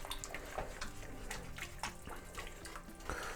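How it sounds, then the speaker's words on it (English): A whisk stirs thickening sausage gravy with flour in a pan, giving faint wet swishing and soft scraping strokes in an uneven rhythm, close and quiet. "I'm just stirring it a lot with the whisk to make sure that my flour doesn't clump up"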